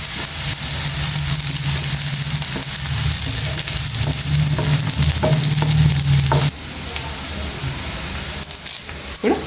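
Green chillies and onions fry in a pan with a pinch of turmeric for egg fry, a loud close sizzle with clattering stirring strokes; the sizzle drops slightly partway, then stirring continues.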